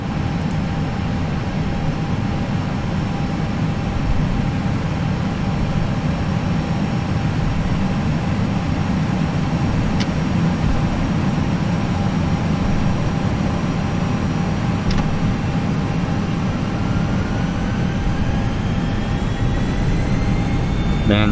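Simulated Airbus A320 takeoff in Prepar3D v4.5 with an Air Canada livery, a loud, continuous jet engine roar and rumble that holds steady throughout, with faint rising whine tones toward the end.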